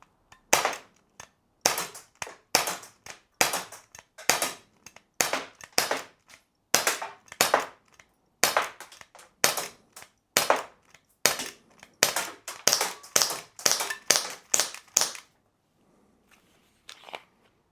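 Rapid sharp snapping shots from a Glock 17 Gen 5 BB blowback airgun, fired in quick irregular bursts of a magazine's worth with brief pauses, close and loud, ending in quiet.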